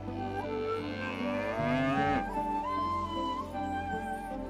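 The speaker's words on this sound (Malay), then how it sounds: "Binatang-binatang ternakan adalah seperti lembu," A cow gives a long, loud moo that rises and then falls in pitch, over a steady low background hum.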